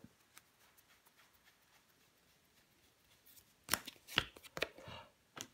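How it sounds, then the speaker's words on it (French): Tarot cards are laid out and placed over other cards, first as faint soft taps, then as a quick cluster of crisp slaps and flicks up close near the end. "Je vais recouvrir des cartes."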